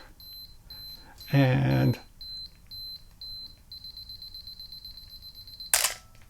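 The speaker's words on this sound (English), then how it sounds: "You have a 10-second self-timer and it uses a beep on this AE-1." A Canon AE-1 Program film camera counts down its 10-second self-timer with a steady train of short, high beeps that turn into one continuous tone, then the shutter fires with a sharp mechanical snap. A spoken word comes just before the countdown.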